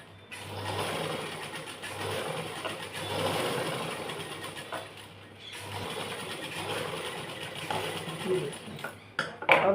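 A sewing machine stitches along a kurti being remade into a designer top, humming steadily in two long, fairly quiet runs with a brief break between them and a few clicks near the end.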